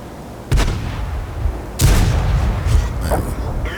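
Cannon fire from an M18 Hellcat tank destroyer in a video game, with two heavy booming shots about a second apart followed by rumbling echo and smaller impacts.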